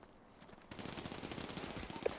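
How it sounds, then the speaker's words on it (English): Gunfire from a GTA RP video game shootout, a steady rapid crackle of shots that starts partway in and keeps going at moderate loudness, with no talk. "Rabbit shooting out here, y'all."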